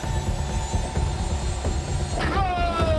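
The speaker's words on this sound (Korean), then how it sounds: "헬기가 이륙하고" A loud, steady engine roar with a rising whine toward the end, a helicopter taking off nearby from a tuna fishing boat at sea.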